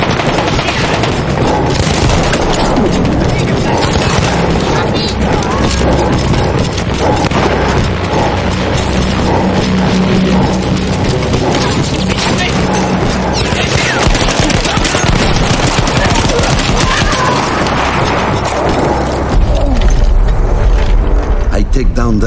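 Machine gun fire in the Battlefield 1 campaign rattles in dense, loud bursts alongside mechanical clatter and booms, with a voice talking over the combat.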